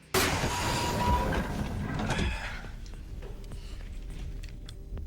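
A real train running past a warehouse in Toronto, used as a room-shifting sound: a loud, close mechanical rumble and grinding that starts abruptly, holds for about two seconds, then eases into a lower, fading roll.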